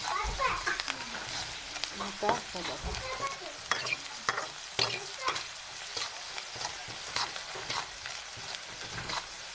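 Food is stirred in a sizzling cooking pan, a low frying hiss with scraping spoon strokes, while voices, including a child's, chatter nearby.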